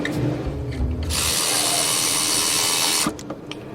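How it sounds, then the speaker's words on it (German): A power drill in a camper conversion workshop runs in one loud, steady whir for about two seconds, straining on a rusted screw, with clattering handling noise before and after. "Och, das ist eine Bohrer"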